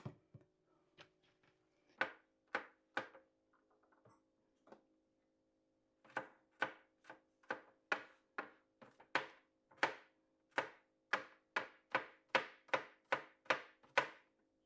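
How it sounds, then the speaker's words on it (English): A knife chops seasoning on a cutting board for a slow-cooked pork dish: sharp, close knocks, a few scattered cuts and then a quick, regular run of chops growing faster toward the end. "I'm going to cut up some seasoning and cook this down with it."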